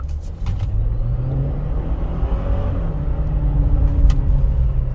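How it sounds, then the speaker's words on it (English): A Tank 300 HEV hybrid SUV accelerates in sport mode, heard from inside the cabin as a steady low engine and road rumble with a rising drone that gradually swells in loudness, without talk. "here we've got sport mode. Let's just accelerate."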